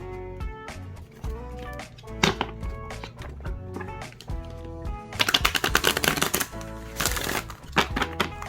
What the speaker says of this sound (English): and then I'm gonna shuffle the cards to